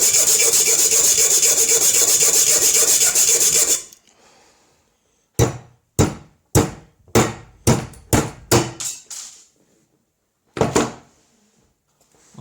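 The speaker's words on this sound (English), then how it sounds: "then we will try and file our key out of this" A key blank cut from a lock pick, for an Eyecase top case lock, is worked by hand with a file: a few seconds of dense continuous rasping, then a string of separate sharp scraping strokes with short gaps between them.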